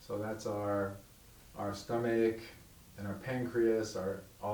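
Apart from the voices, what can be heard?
No distinct noise like a dog, phone or traffic.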